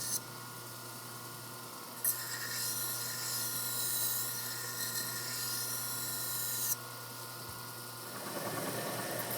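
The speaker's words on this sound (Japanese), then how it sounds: "800番の砥石で研ぐ。" A kogatana knife blade being sharpened on an 800-grit whetstone, making a continuous close scraping rasp that lasts several seconds and then stops, over a steady low hum, with a softer scrape returning at the end.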